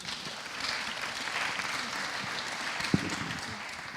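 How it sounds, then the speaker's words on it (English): An audience applauds for a panel facilitator at a council climate event, a steady medium-loud patter of clapping from a seated crowd with a sharp knock near the end. "Big round of applause for Rachel and the panellists."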